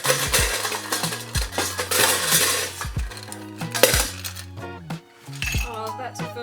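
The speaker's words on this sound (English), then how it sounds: "I was about to film you dropping ice" Ice cubes clinking and clattering into a glass for a smoky Old Fashioned cocktail, a series of sharp, close, ringing knocks with short gaps between them, no talking.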